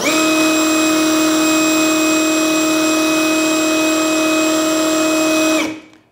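A Tekiro CD-ID2071 cordless brushless impact driver spins freely at speed 3, a loud steady high-pitched whine with strong tonal ringing that holds for about five and a half seconds, then cuts off and winds down to silence.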